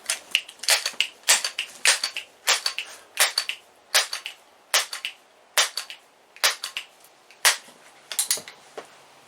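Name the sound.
pumping and firing Crosman 1377 air pistol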